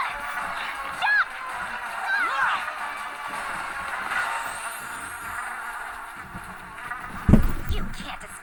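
Cartoon wasps from Miraculous Ladybug buzz and whine in a high, wavering drone, mixed with brief chirps and a loud thump near the end.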